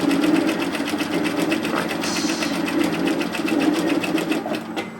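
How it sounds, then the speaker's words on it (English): A sewing machine runs steadily close by, its rapid rhythmic stitching feeding binding onto slippery dress fabric, with a faint voice briefly underneath. "I'm just going to feed the top of that V into my binder and start stitching."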